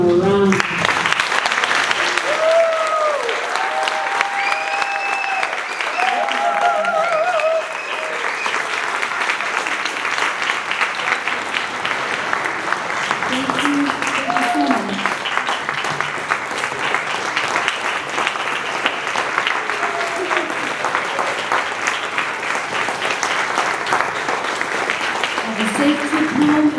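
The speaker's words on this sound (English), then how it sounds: "let's give them a round of applause" Sustained applause from an audience honoring artists at an outdoor memorial gathering for lost trees in Bemidji, Minnesota, steady and close, with voices talking and calling over the clapping throughout.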